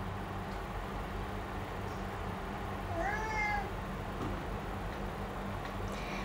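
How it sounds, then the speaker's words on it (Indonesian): A single cat meow rises faintly over a steady low rumble of background noise, brief and somewhat distant. "Denger gak ngeong-ngeong gitu?"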